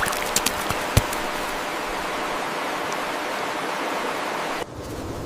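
A gentle flowing stream in an animated children's story about Bobo the rabbit crossing a sparkling little brook, heard as a steady, close, soft broadband rush with a few light clicks early on, easing slightly near the end.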